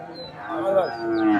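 A cow lows at a Bangladeshi cattle market, a drawn-out close moo rising and falling over about a second amid market chatter and background voices.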